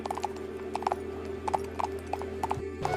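Horse hooves clip-clop in a steady walking rhythm, close and distinct, over a constant low hum. The horse is the king's own riding horse in a retold Bible story of Esther.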